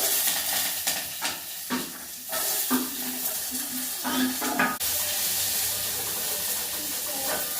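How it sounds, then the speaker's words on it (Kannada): Green chillies and onion frying in hot tempering oil with cumin and mustard seeds, giving a constant sizzle broken by repeated scraping stirs and clinks of a spoon against the pan. "ಈರುಳ್ಳಿ ಮತ್ತು ಮೆಣಸಿನ್ಕಾಯಿ, ಫಸ್ಟ್ ಮೆಣಸಿನ್ಕಾಯಿ ಹಾಕೊಂಡ್ಬಿಡ್ತೀನಿ."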